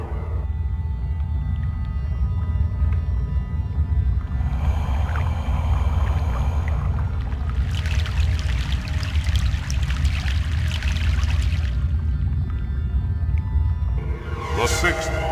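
A boat crossing a river in the video game Broken Sword: The Sleeping Dragon, heard as a steady low rumble with washing, pouring water that swells midway and then eases, alone without talk.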